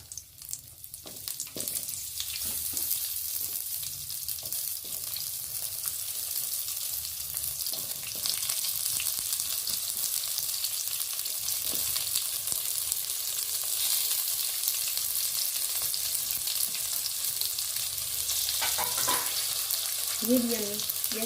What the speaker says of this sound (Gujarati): તેલ આવી ગયું છે તો આપણે હવે બધા ભીંડા નાખી દઈએ એમાં.